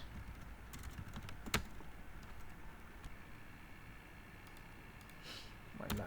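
Keys clatter on a laptop keyboard in a quiet room, a few scattered, faint taps over a steady background hiss with one sharper click.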